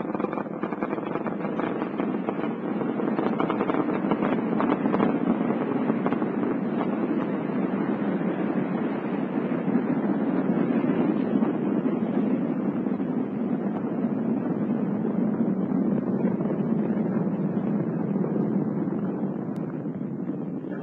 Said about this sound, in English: the vibration and noise during first stage on the solid rocket boosters